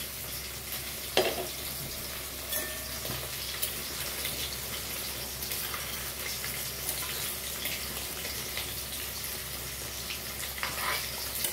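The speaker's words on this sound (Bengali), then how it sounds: "ঢাকনাটা খুলে একটু নাড়াচাড়া দিয়ে দেখি" Steamed hilsa fish being stirred in a pan after the lid comes off, with a steady close hiss of steam and sizzle and a few faint scrapes and knocks over it.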